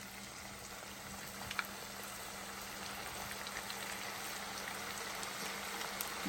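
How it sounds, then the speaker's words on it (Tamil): Marinated chicken 65 pieces deep-frying in hot oil over medium heat, giving a steady, even sizzle and bubbling hiss that continues without a break throughout. "இதை மீடியம் ஹீட்டில் வச்சு பொரிச்சு எடுக்கிறேன்."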